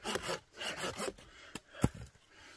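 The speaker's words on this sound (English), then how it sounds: "definitely working on some firewood here." Firewood being sawn by hand in a snowy deep forest during a cold-weather solo hot tent camp, heard as several rasping strokes in uneven rhythm, close and moderately loud, with no talking.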